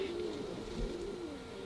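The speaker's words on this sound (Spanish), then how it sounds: "la raza de paloma esta que voy a arrimar un poquito más a la cámara, es posible que se levanten del nido" A pair of pouter pigeons sits on the nest, cooing in a low, steady, throaty drone held through the whole stretch, close and soft, with no talk over it.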